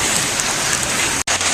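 Hail falling outdoors in a hailstorm makes a dense, even rattle and hiss, close and loud, broken by one brief dropout.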